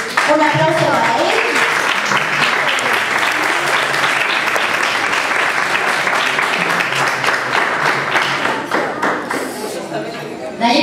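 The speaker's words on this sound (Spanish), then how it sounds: "un aplauso para él" Dense applause from an audience welcoming a guest speaker at a book presentation, loud and sustained for about ten seconds with scattered thumps, then thinning slightly toward the end.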